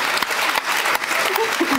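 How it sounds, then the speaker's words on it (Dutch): A studio audience at a Dutch political talk show breaks into applause: dense, steady clapping from a crowd close by, filling the short moment with no talk. "Applaus!"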